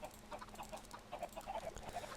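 Chickens in a Minecraft automatic breeding farm cluck in short, quiet, overlapping bursts, a steady busy rhythm of fowl calls with no talking.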